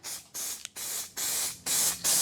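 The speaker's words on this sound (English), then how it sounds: "And now we just spray again" A metallic aerosol spray can fires four short bursts of hissing paint onto a damaged car panel, each lasting about half a second with brief gaps, close and steady.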